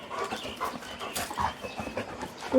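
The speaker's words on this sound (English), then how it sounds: "You crazy dog. He's a crazy dog." A dog pants rapidly in quick, breathy bursts close by, with some rustling movement and faint background noise around it.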